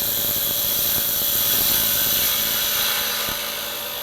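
A woodturning gouge cuts into a spinning workpiece on a lathe while a lidded box is being made, producing a loud, continuous whirring scrape with faint rhythmic ticks from the rotation. The sound tapers slightly toward the end, with no voices.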